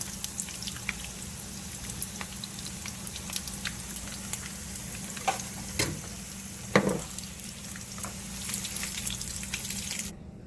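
Beef egg rolls fry and brown in hot oil, giving a constant crackling sizzle with scattered sharp pops and a brief louder burst near the middle, heard up close without talk.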